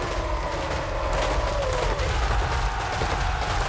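Massed musket and handgun fire from troops battling dwarves in Total War Warhammer 3, a steady, dense crackle of volleys layered over a low battlefield rumble.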